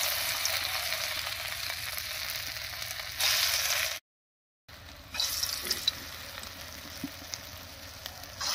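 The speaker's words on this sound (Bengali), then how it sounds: "এবারে কড়াইতে সরষের তেল দিয়ে বড়াগুলো ভেজে নেব।" Lentil fritters fry in mustard oil in a wok, giving a steady hissing sizzle. The sound cuts out briefly for a moment, then carries on at the same level without any voices.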